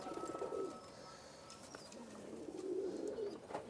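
A female Ferozepuri pigeon and others coo in soft, low rolling phrases that repeat at a moderate distance over quiet background ambience, with a faint chirp or two and no talking.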